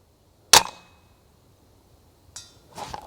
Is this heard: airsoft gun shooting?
yes